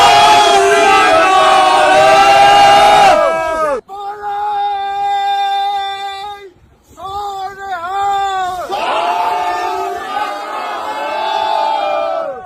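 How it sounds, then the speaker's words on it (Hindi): A large crowd at a protest in London chants Sikh religious slogans, loud and close, in call-and-response rounds of sustained massed voices with short pauses between them. "इस दौरान नीचे खड़ी भीड़ ने कई बार धार्मिक नारे भी लगाए।"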